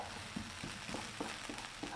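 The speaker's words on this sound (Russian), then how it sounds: "Давайте теперь выкладывать в сковородку курицу." Chicken pieces sizzling in a frying pan with golden fried onions, a steady close crackle with soft periodic stirring or placing thuds, no talk.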